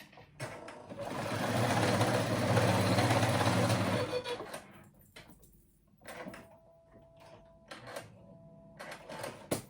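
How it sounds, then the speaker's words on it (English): A sewing machine runs a zigzag stitch back and forth on elastic for a dolman dress, with a steady close whirring burst for several seconds, then shorter stop-start runs of stitching. "I use a zigzag stitch right there and just sew a zigzag back and forth, back and forth."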